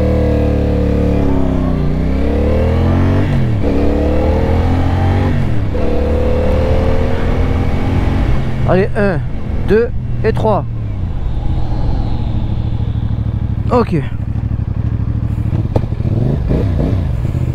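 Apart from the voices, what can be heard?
CFMOTO 450CL-C motorcycle accelerating and front brake test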